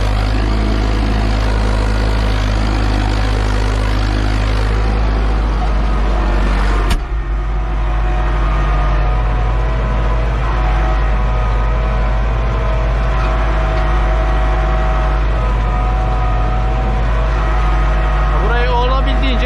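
A Massey Ferguson 3105 tractor engine pulling a 17-tine tiller drones steadily and close by, with a deep low rumble throughout and a brief knock partway through; no talking is heard.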